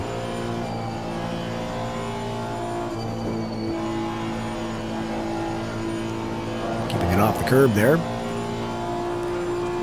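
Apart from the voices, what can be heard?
race car at full throttle in video game Assetto Corsa Competizione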